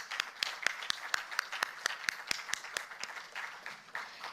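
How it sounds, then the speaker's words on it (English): An indoor audience at an inauguration event gives a round of applause for student volunteers, a modest room of claps in an uneven, steady patter, fairly soft and without voices. "A huge round of applause for our student volunteers"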